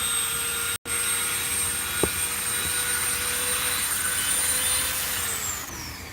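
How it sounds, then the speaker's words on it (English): A Dremel rotary tool sands a line on a mask with a steady, high-pitched whine that runs continuously at moderate volume, broken only by one very brief dropout near the start. "See that line? Let's hit that with a Dremel."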